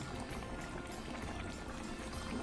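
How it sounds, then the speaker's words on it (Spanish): Chicken broth poured into simmering chicken tinga in a home kitchen, a steady close liquid wash with no voices. "le voy a poner más agüita del pollo y lo voy a tapar para que termine de cocinarse."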